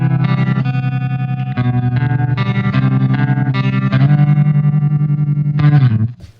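A Fender '76 Super Reverb with vibrato intensity and speed turned all the way up pulses rapidly over sustained, loud guitar chords, close and alone, stopping abruptly at the end.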